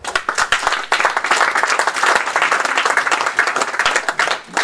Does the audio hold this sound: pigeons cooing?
no